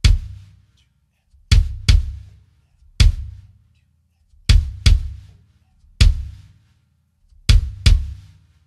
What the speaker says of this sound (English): Here's just the bass drum.